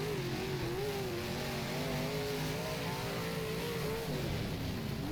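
A 358 modified race car engine in the rFactor racing game at Oswego revs steadily while doing wheelie donuts, a loud continuous droning roar with wavering pitch.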